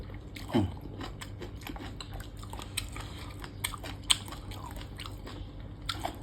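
Close-up crunchy chewing of soft pork rib cartilage, with irregular crisp bites and crackles over a quiet background hum; no talking.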